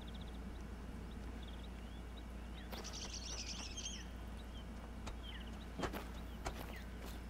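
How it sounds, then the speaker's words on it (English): Birds chirp and tweet in the Revontuli Coast wilderness of the hunting game theHunter: Call of the Wild, a brief burst of calls midway followed by a few scattered sharp notes over a low steady ambient hum. "Those are birds."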